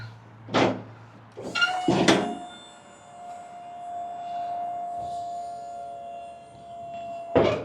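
A hydraulic motor whines steadily for several seconds after a few metallic clunks, as a Maxon liftgate on a 2019 Isuzu NRR box truck rises, ending with another clunk.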